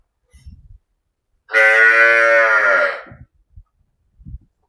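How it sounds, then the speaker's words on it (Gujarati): A cow at a gaushala cowshed beside a Hanuman temple lets out one long, loud, close moo. Faint knocks and shuffles come before and after it. "મિત્રો આ એક ગાય છે આનું નામ છે જમના"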